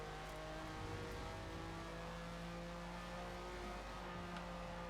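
Lamborghini Miura SVJ engine in Forza Horizon 4 drones steadily at high revs during a lap, a dense continuous roar with strong harmonic tones and no talking.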